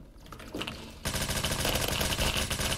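Automatic gunfire from an SR-3M rifle in a shooter video game, a quiet shot or two, then a sustained loud rapid-fire burst of rattling shots.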